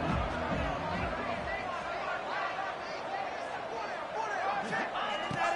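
Stadium crowd noise from the video game College Football 26 at a big rivalry game, a steady roar of cheering and chatter filling the whole stretch at moderate loudness.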